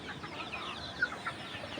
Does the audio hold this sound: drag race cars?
no